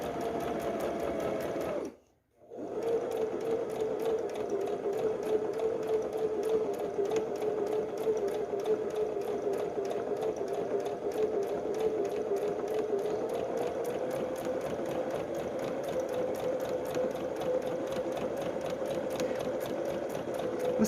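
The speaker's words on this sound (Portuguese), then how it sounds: "O segredo de costurar curvas é você manter a velocidade constante e lenta." A sewing machine stitches a slow curve through fabric for a Christmas Advent calendar, running at a steady, even pace close by. It makes a continuous mechanical whir with rapid needle ticks and one short stop near the start, with no talking.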